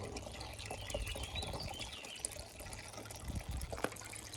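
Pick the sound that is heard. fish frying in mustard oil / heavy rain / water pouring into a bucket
water pouring into a bucket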